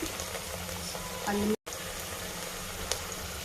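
Onions and green chillies hit a hot pan with a steady, close frying sizzle that holds throughout, broken once by a short cut.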